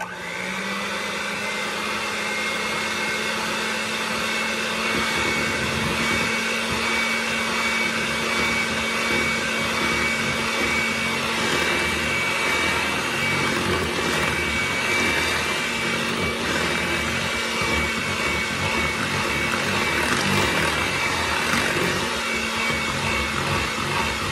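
An electric mixer beating German chocolate cake mix runs steadily with a loud, continuous whirring drone, its pitch shifting slightly around five seconds in and then holding for the rest.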